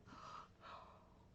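A person yawning: two drawn-out breathy exhalations in quick succession, quiet and close, with no words spoken.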